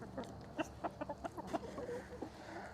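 Chickens, including a young cockerel, cluck in short, scattered bursts close by, with soft farmyard background noise in Canada.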